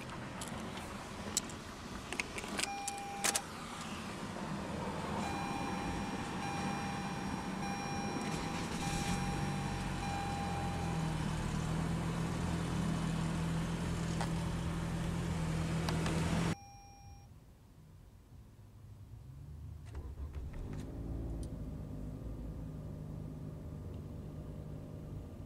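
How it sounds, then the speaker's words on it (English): A 2021 Toyota Camry LE AWD gives a few short chimes, then its engine runs with a loud, steady hum before dropping abruptly to a quieter, even idle for the rest of the clip. "let's go ahead and start the engine"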